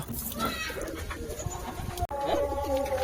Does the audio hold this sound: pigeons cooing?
yes